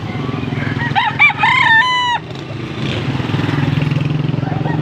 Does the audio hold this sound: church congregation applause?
no